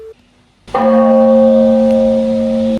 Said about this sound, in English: waking up every single day at 4 a.m. with a very loud bell.